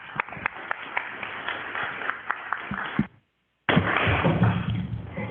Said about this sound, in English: How about a round of applause for our school board members?